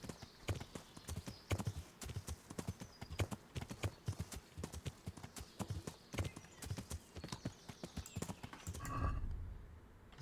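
A horse trots in a video game, its hooves knocking out a quick, steady clip-clop close up for several seconds before the rhythm breaks off into a low rumbling thud near the end.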